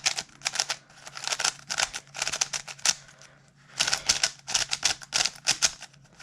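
A stiff, unlubricated, untensioned puzzle cube is turned quickly by hand, producing dense, rapid clacking bursts close up, with a short pause midway and no talking.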